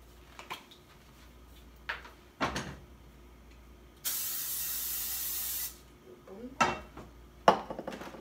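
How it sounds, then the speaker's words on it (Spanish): Avocado oil cooking spray hisses in one steady burst of about a second and a half, close and loud. Scattered kitchen clatter and knocks come before and after it. "Este spray de aguacate."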